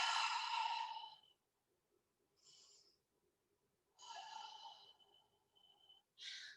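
Slow, full breaths during a yoga pose, close and soft: a long exhale, a short quiet intake, then another drawn-out breath and a final brief one, with near silence between.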